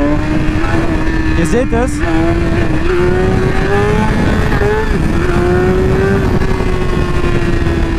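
BMW S1000RR motorcycle revving hard in first gear with wheelie control active, a loud close engine roar rising and falling through repeated throttle blips while someone speaks briefly over it.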